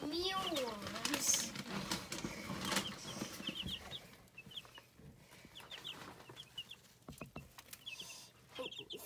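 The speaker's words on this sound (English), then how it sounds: "right now they're really, really cute, but they keep fighting over these mealworms" Young chicks peep and cheep in bursts while scrambling over mealworms, with small scuffling sounds nearby and a person talking over the start.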